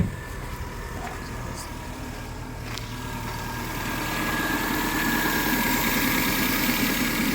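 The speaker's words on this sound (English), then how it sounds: "Kinda sounds like a vacuum leak." A steady car engine with a vacuum leak idles close by, a constant low rumble and hum that grows slightly louder toward the end, with a faint hiss on top.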